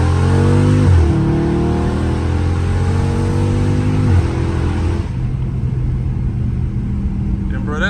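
A Dodge Charger Scat Pack engine, very loud, revs up close, its pitch climbing and dropping twice before settling into a steady, rumbling idle.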